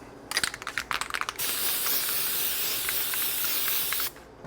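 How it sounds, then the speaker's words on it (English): Lithium grease sprays onto the rear axle of a 1994 Harley-Davidson Softail in a steady, close hiss lasting about three seconds, preceded by a few short clicks and rattles of handling. "Clean our axle off and re-grease that with some lithium grease."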